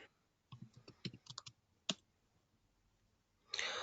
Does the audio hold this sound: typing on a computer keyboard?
yes